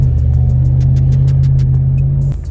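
A Ford F-150 with a 5.0 V8 and muffler-delete exhaust idles with a deep, close, loud rumble, holding steady for a couple of seconds before easing off.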